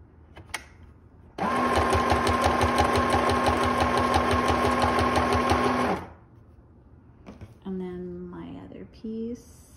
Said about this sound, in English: I'm just gonna continue sewing and then I'll cut it all at the end